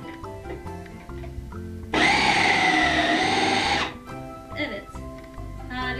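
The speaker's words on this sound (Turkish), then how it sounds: "Bakın arkadaşlar, birkaç saniye içerisinde rendelendi. Evet, sesi çok hoşuma gitti." A Fakir Vienta blender with its grating attachment runs in a loud, steady whir for about two seconds, then stops, with a voice talking before and after.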